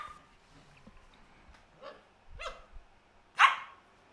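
Charlie, a female dog, barks for her toy indoors: a handful of sharp, separate barks spaced across a few seconds, the last one loudest, with quiet pauses between them.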